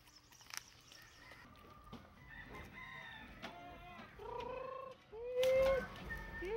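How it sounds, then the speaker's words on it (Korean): Chickens and a flock of chicks gather at a rural mountain homestead, with bright cheeping, clucking and a crowing rooster scattered throughout at moderate distance and growing louder toward the end. "메리타가 부르는 소리에 병아리 떼들이 한꺼번에 몰려든다."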